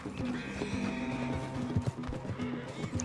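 A horse clip-clops and whinnies close by in a short, busy burst of hoofbeats and neighing, with a frightened voice calling out over it.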